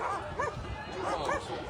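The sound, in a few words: dog barking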